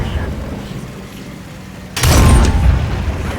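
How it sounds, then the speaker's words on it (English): A tank's ammo rack exploding in a video game: a sudden loud, close blast erupts after a quieter lead-in and rumbles on heavily, with a voice talking before it. "I blew him up. I believe that was an ammo rack that killed him."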